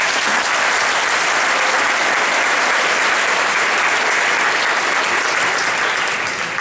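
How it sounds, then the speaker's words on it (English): A large crowd at a graduation ceremony gives a loud, sustained round of applause, a thick, even roar of clapping that holds steady from start to finish. "Please give him another round of applause."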